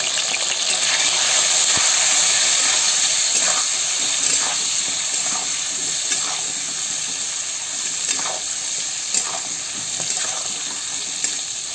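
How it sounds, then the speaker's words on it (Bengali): Eggplant pieces seasoned with turmeric and salt frying in a pan, a steady bright sizzle and hiss with faint crackles and pops, close and continuous with no talking. "বেগুন কটা ভালো করে ভাজে নেবো, ওতে একটু হলদি লবণ দেবো"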